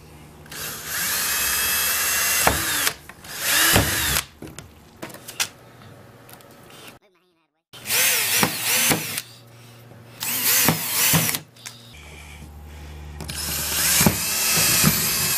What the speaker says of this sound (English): Now I'm going to drill this.